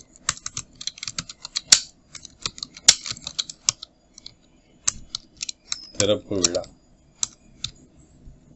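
Rapid keystrokes on a computer keyboard come in uneven bursts, with a few sharper key strikes, while text is entered for a notice design in Photoshop. A voice briefly speaks partway through.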